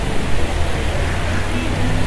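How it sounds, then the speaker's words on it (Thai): Steady broadband rush of falling water from an artificial color-changing waterfall in Las Vegas, loud and continuous with no clear breaks. "น้ำตกสลับสี"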